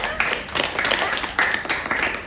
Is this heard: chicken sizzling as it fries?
no